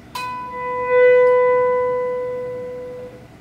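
A single electric guitar note swells up in volume with no delay effect, then holds and slowly fades, clear and alone.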